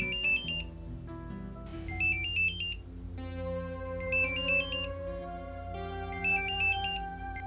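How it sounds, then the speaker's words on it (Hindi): A phone ringtone sounds while a call is placed, four evenly spaced bursts of bright electronic chirps over a low sustained background tone, with no talking. "मैंने मंजू को फोन नहीं किया, मैं अब भी करती हूँ राइट नाउ"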